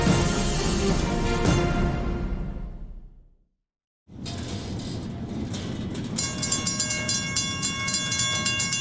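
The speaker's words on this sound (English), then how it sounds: "But this is what a freight train passing feels like." A freight train passes, with loud rumbling and clattering wagons that fade out into a brief silence before the rolling noise returns and a steady horn-like tone rises over it.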